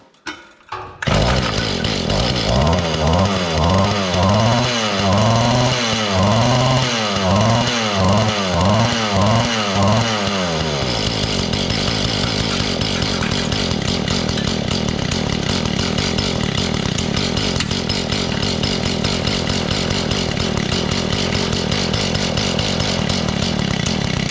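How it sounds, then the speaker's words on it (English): A Mantis cultivator's small engine revs up and down in a rapid series of surges after an idle adjustment, then settles into a loud, steady buzzing run, close by with no talking. "I'll turn the idle up just a little bit. We'll see what it does now."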